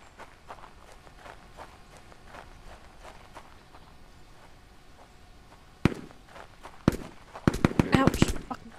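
Gunfire in the extraction shooter game EXFIL: after low game ambience with faint steps, several sharp cracks arrive, two isolated shots followed by a rapid burst, sounding somewhat distant.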